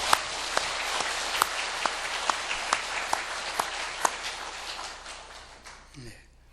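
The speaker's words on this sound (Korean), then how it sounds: "수고하신 모든 분들에게 감사와 격려의 박수를 드리겠습니다" A church congregation gives a round of applause in thanks and encouragement for volunteers and teachers, the dense clapping loud at first, then thinning and fading away near the end.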